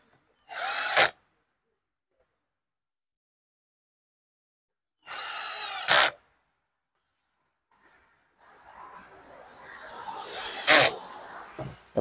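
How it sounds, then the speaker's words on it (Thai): Cordless drill driving screws into a small DIY Bluetooth speaker box, three short whirring bursts separated by silence, close and loud, the last one over faint background noise. "ใครที่มีสว่านแบตก็ใช้สว่านแบตแบบผมก็ได้เนี่ย"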